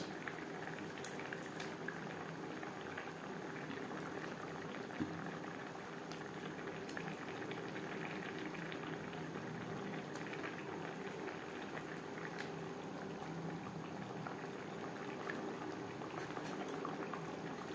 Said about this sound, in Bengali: ফুটে ওঠা পর্যন্ত অপেক্ষা করব